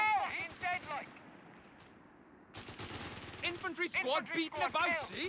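Infantry small-arms fire in a Company of Heroes 3 battle between Grenadiers and Royal Engineer sappers, with bursts of rapid shots in two clusters around a quieter middle stretch, mixed with a voice talking over the action.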